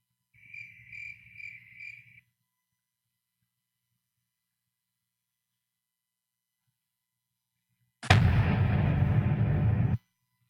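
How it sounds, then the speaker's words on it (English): Crickets chirp in a short, pulsing trill of four quick bursts over a low hum and then fall silent. Much later a loud, sudden crash-like blast lasts about two seconds. "Crickets."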